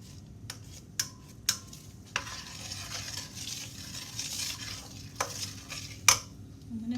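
Brown sugar caramel apple dip stirred in a pan, a steady scraping swirl with light sizzling and a few sharp utensil clicks against the metal, close and moderately quiet with no talking.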